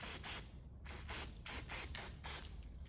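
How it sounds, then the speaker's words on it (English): Spray can misting a Christmas ornament: six short bursts of hissing spray in an uneven rhythm, close and clear, with brief quiet gaps between them. "I just kind of spray the whole ornament and I cover the entire"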